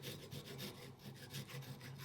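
A coping saw rasps through wood in quick, steady back-and-forth strokes, close and fairly quiet.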